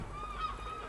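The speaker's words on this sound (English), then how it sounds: "I don't know whether you can hear that over the seagulls" Seagulls call outdoors in a steady, fairly close series of honking, squealing cries that carry over one another across the whole second.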